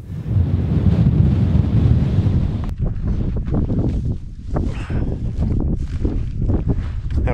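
Strong wind buffets a mountain summit at about 12,600 feet on South Rawah Peak, roaring loudly and steadily at first, then gusting in uneven rumbling bursts against the microphone.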